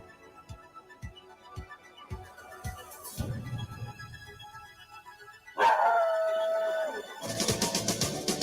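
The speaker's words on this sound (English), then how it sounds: "That bark." A dog barks several times in short, evenly spaced bursts, moderately close, with scattered background noise and movement around it and no speech.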